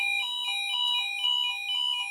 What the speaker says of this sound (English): So it works fine if you just activate the alarm.